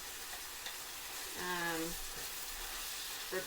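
Onion, green chili and meat fry together in a pan over medium-high heat, a steady close sizzle throughout with a brief voice murmur partway through.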